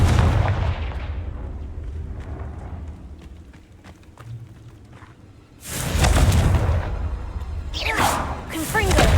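Fiery Confringo spell blasts in Hogwarts Legacy, sounding as loud booming bursts with crackling tails, a quieter rumbling stretch between them and a stronger burst near the end.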